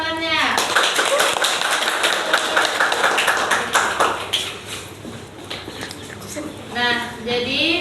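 A classroom group of pupils claps together after a lesson on plant parts, a dense spray of sharp hand claps lasting several seconds, fading then briefly picking up again, with children's voices chattering over it.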